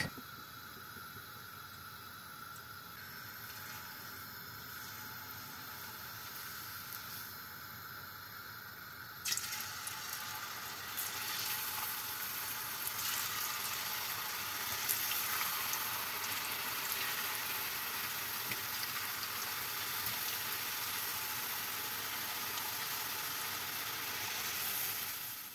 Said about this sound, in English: Potatoes are frying